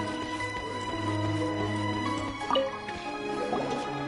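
Water is fetched in Genshin Impact, a few clear plinking drips over a steady tonal game background, with one sharper splash midway.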